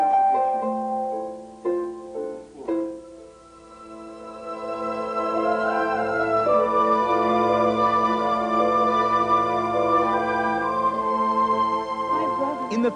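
A composer plays melodic theme variations while scoring a Robin Hood film scene. The sustained, tonal line is loud and close, with a few short, choppy notes at the start before a long held passage.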